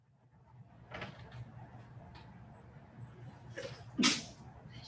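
A single sharp human sneeze bursts out close by near the end, after a softer breathy burst earlier, over a low steady room hum.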